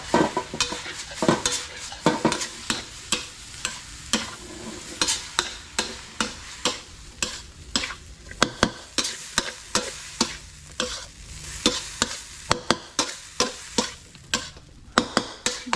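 Mama instant noodles with egg and shrimp stir-fried in a pan, a steady run of sharp utensil scrapes and clacks against the metal over a soft sizzle, close and fairly loud with no talking.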